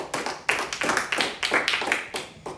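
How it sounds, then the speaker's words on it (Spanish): A church congregation claps during a Spanish-language sermon, giving loud, irregular bursts of hand claps with uneven rhythm, close and dry. Nobody speaks. "Denle un aplauso a Cristo."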